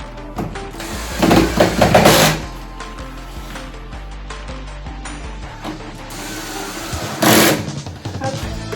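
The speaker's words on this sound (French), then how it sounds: "pour bien installer mon petit parc, il faut que je visse" Parts of a small wooden pet enclosure being screwed together with a power screwdriver, with several short whirring bursts and clicks at close range between quieter handling noises.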